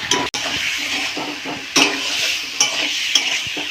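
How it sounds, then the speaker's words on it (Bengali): Kashmiri chilli powder and turmeric sauté in a pan for a Bengali curry, a close sizzle broken by several sharp stirring scrapes and clacks of a spoon against the pan. "এবার একটু কষাবো,"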